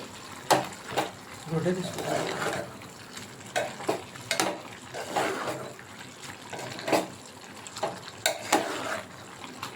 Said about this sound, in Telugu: ఇప్పుడు మంచిగా చికెన్ పట్టేటట్టు ఇలాగ కలుపుకోవాలి